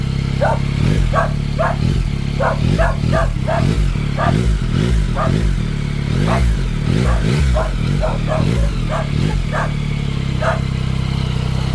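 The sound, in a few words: Yamaha MT-09 motorcycle engine revving with stock exhaust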